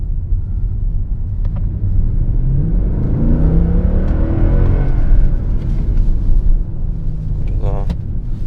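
A Mercedes C63 AMG's engine rumbles deep and loud from inside the cabin as it builds speed with a rising whir, while someone talks over it throughout.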